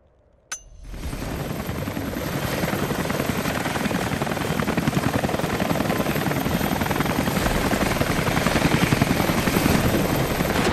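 Helicopter in Rise of the Tomb Raider starts up after a sharp click, then a loud, steady rotor chop and engine whine that holds and slowly builds.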